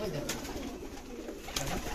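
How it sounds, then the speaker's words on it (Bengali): Pigeons cooing in low, soft repeated calls close by, over a constant background murmur. "এই দেখতে পাচ্ছ পায়রা, অনেক পায়রা আছে।"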